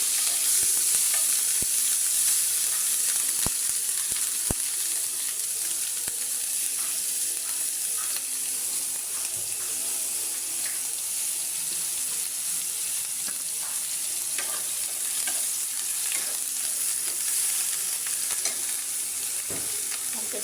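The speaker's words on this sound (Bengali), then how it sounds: "শুধু পেঁয়াজ ফুটতেছে, মাছ ভুনা করবো তো, ওই জন্য পেঁয়াজটা একটু বেশি দিলাম।" Sliced onions sizzle steadily in hot oil in a large frying pan, a continuous bright crackle with occasional stirring, no talking.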